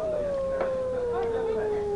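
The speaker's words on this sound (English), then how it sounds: "Good Lord, what was that? It was a wolf's howl, Governor." A single long wolf howl rings out at night on a street in the Dracula Unleashed game, a sustained, slowly falling tone held for the whole stretch with faint background ambience.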